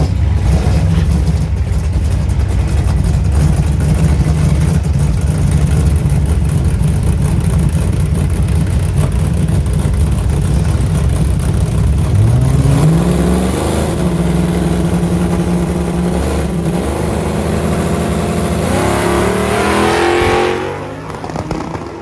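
A nitrous-fed drag car built from a junkyard Monaro roars loudly at full throttle, then launches with a rising engine note and climbs through the revs before fading slightly at the end.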